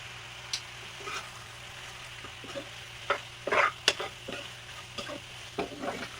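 Pasta being stirred in a pan with ketchup added, giving soft scattered scrapes and clinks over a faint steady sizzle, with a few louder stirring bursts near the middle.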